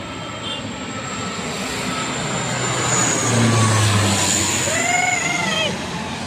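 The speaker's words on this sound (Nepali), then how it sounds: "ओ प्लेन आइरहेछ प्लेन हो है" An airplane flies over the Koteshwar area of Lalitpur, a steady broad engine roar that swells toward the middle and holds, with faint bird calls chirping above it outdoors.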